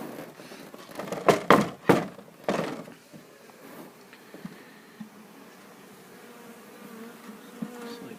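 A package of Italian honey bees being installed into a hive gives a soft, steady buzzing hum, with a few knocks and thumps of the frames near the start, fairly quiet and close.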